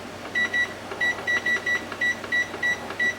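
A canner's kitchen timer beeps repeatedly while being set for ten minutes, delivering a run of short, bright electronic beeps in quick pairs and singles, close and clear with no talk over them.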